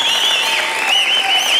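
A studio audience claps steadily in a short, dense burst of applause, loud and sustained with no voices over it.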